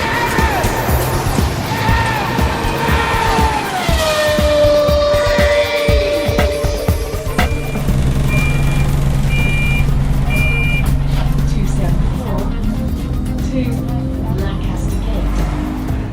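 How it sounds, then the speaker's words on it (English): Busy central London street traffic with engines rumbling, a vehicle beeping, and people talking nearby, loud and continuous throughout. "that's the sound of the centre of London"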